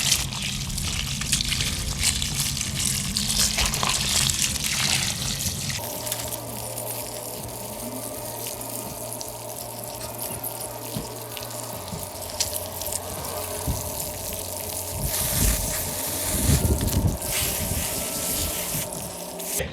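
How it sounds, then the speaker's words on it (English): Water from a garden hose rinses a K&N engine air filter, a steady hissing spray that shifts in tone as the stream moves across the filter, close up with no talking. "we're gonna go over to the hose and basically rinse this off."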